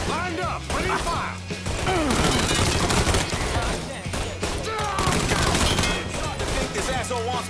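Dense video game gunfire from Mafia III, rapid volleys and crashing impacts packed together loudly across the whole stretch, with shouted character voices woven through the shooting.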